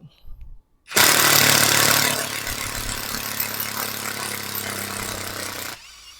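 A POLO PCB161A2 cordless impact driver set to gear one unscrews a screw, kicking in abruptly with a loud, steady buzzing rattle that holds for about five seconds, then cuts off.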